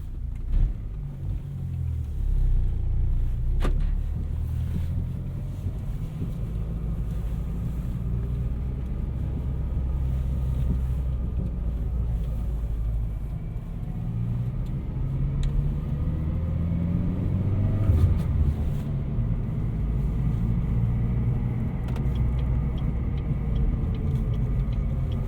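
A turbocharged 2008 Chevrolet Cobalt SS drives along with a steady, low engine drone and road rumble heard from inside the cabin, the pitch rising and falling slightly as the car accelerates, with no talking.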